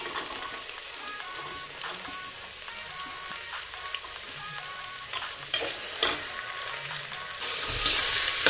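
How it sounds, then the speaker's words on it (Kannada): Peas, carrots and beans fry in a pan for pulao, making a continuous crackling sizzle with occasional stirring knocks, then a sudden louder surge of hissing near the end. "ಇದನ್ನು ಸ್ವಲ್ಪ ಫ್ರೈ ಮಾಡ್ಕೊಳ್ತಾ ಇದ್ದೀನಿ."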